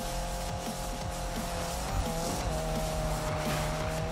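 A race car in a racing video game drifts under constant loud engine drone, with repeated short tire squeals and skidding chirps over the steady roar.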